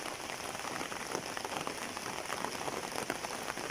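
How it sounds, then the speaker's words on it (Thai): Heavy monsoon rain pours down on Koh Chang island, a dense steady hiss of drops striking surfaces that holds at constant strength throughout with no voices. "ฝนกำลังตกเลย ตกแรงตรงนี้เป็นหน้ามรสุมฝนก็จะตก เยอะมาก"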